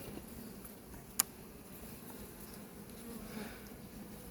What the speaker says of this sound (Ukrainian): бджола на кожній є потрохи